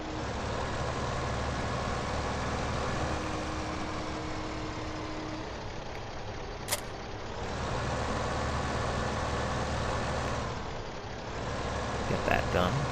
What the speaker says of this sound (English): Now we gotta do is park up this tractor